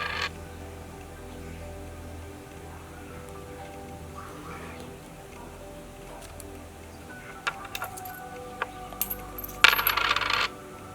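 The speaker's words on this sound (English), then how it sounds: "Six tosses of the coin will give you your primary hexagram." Coins are tossed for an I Ching consultation, landing in a short cluster of bright metallic clinks and jingles near the end after quiet handling sounds.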